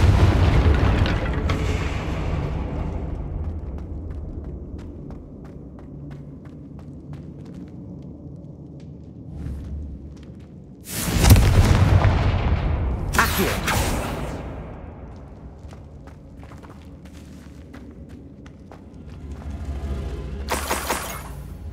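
Hogwarts Legacy fire spell blasts: two heavy booming explosions erupt about two seconds apart, with a third burst at the end, over a low rumbling ambience.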